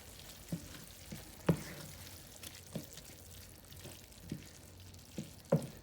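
Vegetable corn thickened with a little flour is stirred in a pan with a low sizzle, a spoon scraping and knocking against the pan in irregular strokes, quiet and close, with no talking.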